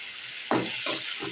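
Onion and garlic sizzle in a hot pan, stirred a few times, each stir bringing a soft hissing surge over a quiet, steady fry.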